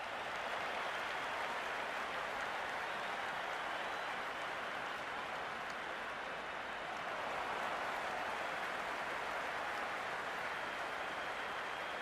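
A crowd at a cricket match in the Cricket 26 video game keeps up continuous, dense applause and cheering for twelve seconds, as an even roaring wash with a slight swell midway and no clear voices.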